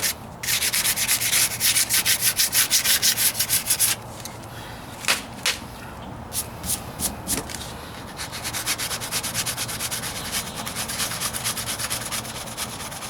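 Sanding Bondo filler by hand with 150, 220 and 500 grit paper on the driver's side wheel arch of a 1998 Ford Ranger: close, rhythmic rasping strokes in quick bursts, a pause with a few scattered scrapes, then steady sanding again.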